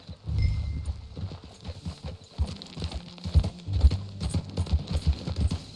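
Horse hooves clip-clop in an uneven trotting rhythm at close range in Red Dead Redemption 2, a faint steady background hum underneath and no talking.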